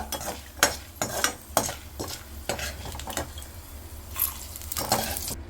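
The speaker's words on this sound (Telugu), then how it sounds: "వేరుశనగ గుళ్ళు పచ్చనపప్పు వేసుకొని వేపుకోవాలంటండి" Peanuts and split chickpeas frying in oil in a pan while being stirred, a regular series of scraping, rattling strokes about twice a second over a low sizzle, close and clear, no talking.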